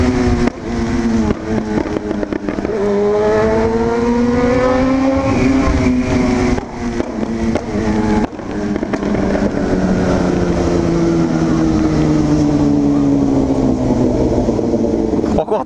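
Remapped Yamaha MT-09 motorcycle roaring loud and close, its engine note rising and falling through revs with continuous rasping exhaust and crackle, and no speech over it.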